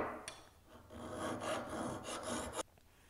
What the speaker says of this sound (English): I've been busy at it with my stone and with the file. I've been using the file on the bevel edge there.